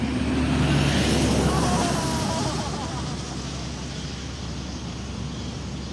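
A large truck passes on a roadside near a protest gathering, a loud broadband engine and tyre roar that peaks early and fades steadily as it moves away, with faint voices in the background.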